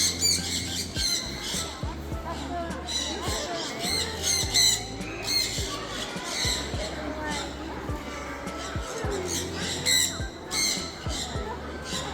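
Loud, repeated bird squawks at a bird park in Japan, sharp calls rising over a busy bed of crowd chatter and people talking nearby throughout.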